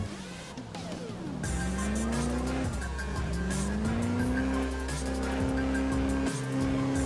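A drift car in the Driftzone racing game revs hard, its engine pitch climbing and dropping through shifts while tires squeal continuously across the slide, loud and steady with no pause and no voices.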